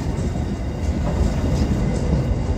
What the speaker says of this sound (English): seeing the train go over the crossover